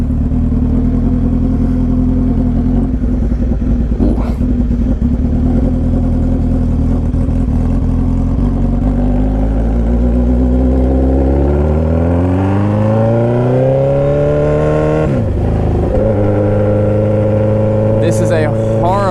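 A stretched 2007 Suzuki Hayabusa on a test ride rumbles steadily, then its engine note climbs as it accelerates, falls back and rises again, with someone talking over it.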